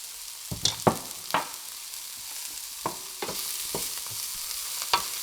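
Spiced broccoli and potato pieces sizzle softly in a pan under a steady hiss, with a series of sharp scraping stirs from a spoon at irregular intervals.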